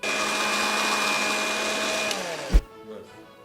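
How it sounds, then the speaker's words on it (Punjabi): A mixer grinder runs with a steady, loud whine for a few seconds, then winds down and stops. "ਉਹ ਮਿਕਸੀ 'ਚ ਪਾ ਕੇ ਗ੍ਰਾਈਂਡ ਕਰ ਲਓ"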